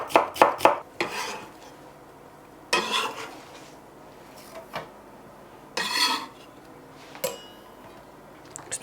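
Onion being finely chopped with a knife on a board, with a quick cluster of cuts followed by a few separate scraping, knocking bursts, close and moderately loud, with no talking.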